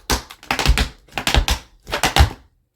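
Tap shoes striking a hard floor in an intermediate tap routine of steps, double pull backs and a wing: three quick rhythmic clusters of crisp, close taps, alone with no voice.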